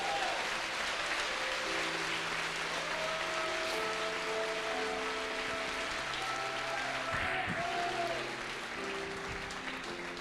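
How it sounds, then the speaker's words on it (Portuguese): Church congregation applauding at an evening service, steady broad clapping sustained for ten seconds while music and tonal chords carry on beneath it. "Então dá um aplauso ao Senhor Jesus aí,"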